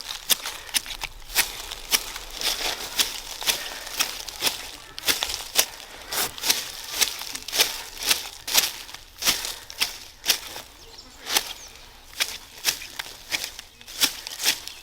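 Garden scissors snipping through heather stems outdoors after winter, a steady run of close, crisp cuts with rustling twigs between, continuing throughout.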